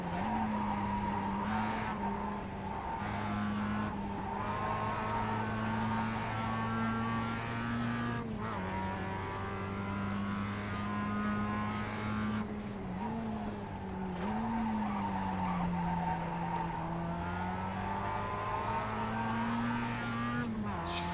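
Race car tires squeal and skid in an iRacing sim, a loud sustained engine drone with wavering squeals rising and falling as the car slides around corners, continuing for about twenty seconds.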